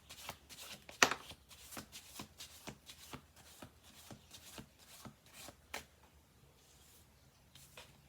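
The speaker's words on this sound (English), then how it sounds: "We'll do 2 more shuffle throughs. We've got 9 cards on the table." Tarot cards are shuffled in a quick series of soft riffling bursts, close and fairly quiet, with a few light taps in between.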